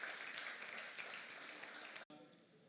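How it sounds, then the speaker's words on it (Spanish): A church congregation claps to welcome first-time visitors, a continuous, moderately loud burst of applause that cuts off abruptly near the end, followed by quieter room sound. "Sé que les dieron un aplauso, pero reciban otro aplauso."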